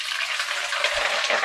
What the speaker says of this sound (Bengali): এখন আমি চিকেন গুলা ভাজার জন্য কড়াইতে দেব।